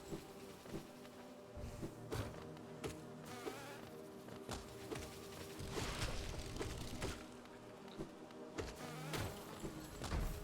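Wasp-like insects in the Hollow Knight video game buzz in a continuous, wavering drone that swells and fades, with sharp clicks and flutters throughout and no talking.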